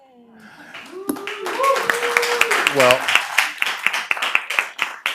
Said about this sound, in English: You don't even know what you're clapping for